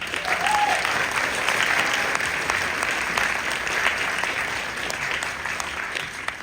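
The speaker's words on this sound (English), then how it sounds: "you should be applauded" Graduation ceremony applause for a psychiatric technician class at San Bernardino Valley College, a continuous, fairly distant crowd clapping that stays even throughout.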